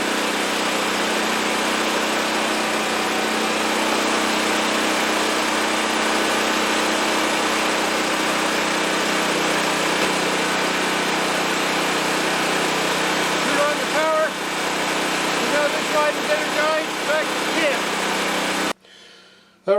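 A portable generator runs steadily close by, a continuous mid-pitched engine drone holding even throughout before cutting off abruptly at the very end.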